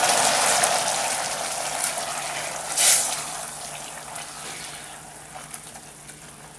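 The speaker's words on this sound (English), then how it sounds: "we're going to add in a 1/4 cup of rum, and we're going to stir that in." Rum is poured into a hot sauce in a pan with the heat just switched off, for a Cuban rum cake, giving a steady, close hiss and sizzle with a brief louder splash midway.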